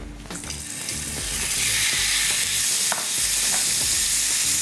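Food hits hot garlic-infused oil in a pan and a loud sizzle swells and holds steady, with a few stirring knocks and scrapes at the start and a brief clink partway through.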